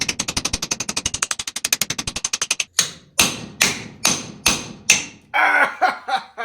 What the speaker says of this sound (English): we've got to take the hammer and the chisel again and work this thing off